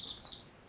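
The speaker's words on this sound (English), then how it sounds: "can you hear that bird?" A small bird chirps and sings inside a workshop where it is building a nest, with high, bright tweets close by, several quick calls over a quiet background and no talk.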